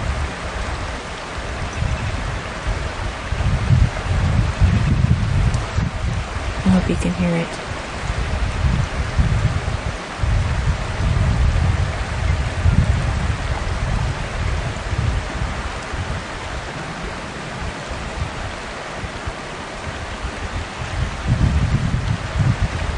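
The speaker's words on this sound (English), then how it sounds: "This is an alluvial stream." An alluvial spring stream flows through a backyard with a steady broadband wash of running water, close and continuous, while a person talks over it at times.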